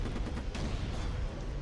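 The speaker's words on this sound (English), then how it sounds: "Some bastard shooting back at me now." Unreal Tournament 2004 gunfire and explosive booms form a dense, rumbling wall of continuous battle noise, low-heavy and sustained without clear individual shots, and no talking.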